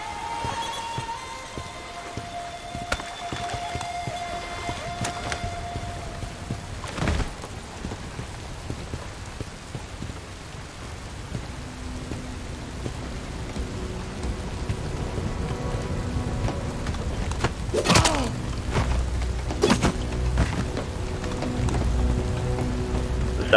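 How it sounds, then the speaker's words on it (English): Steady rain pours through a Bright Memory Infinite level, a continuous dense hiss with rolls of thunder rumbling beneath it and occasional sharper cracks. "Hide yourself in the rain and take them out."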